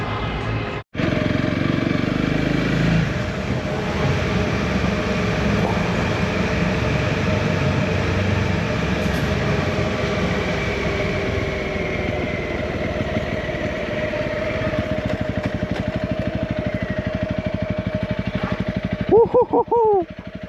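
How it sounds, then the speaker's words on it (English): Several motorbikes ride together along a road in Turkey, a continuous droning engine roar with wind noise held steady throughout, close and loud, with a brief voice near the end. "Motorbike gang for the win."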